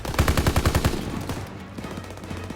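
A 7.62-calibre light machine gun fires a rapid burst of about eight loud shots in Call of Duty, then cuts off, leaving faint scattered rattling and echoing game ambience.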